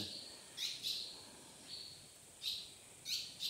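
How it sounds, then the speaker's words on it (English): Short, bright bird chirps come in pairs and single calls, echoing slightly inside an abandoned late-1800s school building over a faint steady hiss. "lot of birds in here"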